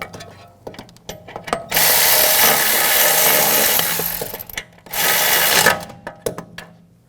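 A power tool whirs and rattles in two loud, close bursts, tightening bolts on a 2007-2013 BMW X5 rear wheel bearing, with clicks and clanks of handling in between.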